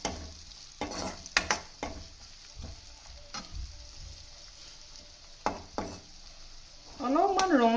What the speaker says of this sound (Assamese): পিয়াজখিনি ধুনিয়াকে লৰাই দিব